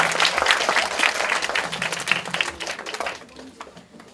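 A lecture audience of high school seniors applauds, with dense, loud clapping that fades out over the last second.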